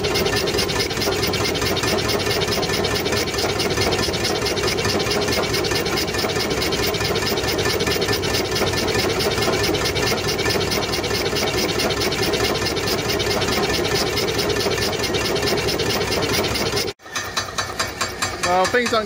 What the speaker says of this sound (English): I've just had this high pressure pump running and this fan running.